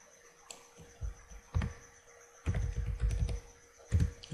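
Computer keyboard keys tapped in short bursts while an admin password is entered, with quick clustered clicks separated by pauses, close and moderately loud.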